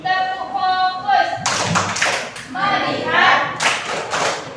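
A classroom of pupils clap together in a rhythmic focus-clap routine, short bursts of hand claps alternating with children's chanting voices, loud and close throughout.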